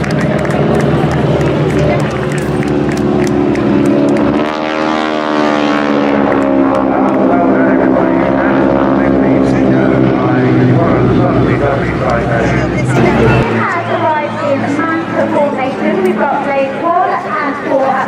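Breitling Wingwalkers biplane flying at the Torbay airshow, its propeller engine droning loudly and sweeping past overhead in a rising then falling tone, with crowd noise and background chatter.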